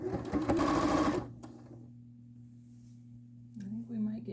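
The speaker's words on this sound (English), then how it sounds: "sometimes I try to pin my binding before I sew them" A sewing machine stitches quilt binding in a short, fast, close burst, then a low steady hum lingers before a voice speaks briefly at the end.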